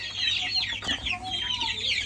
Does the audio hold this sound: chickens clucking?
yes